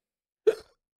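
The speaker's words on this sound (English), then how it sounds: "Hold on, I'm about to burp." A single short burp from a man, one abrupt voiced burst lasting about a quarter second, close and fairly loud, alone with silence around it.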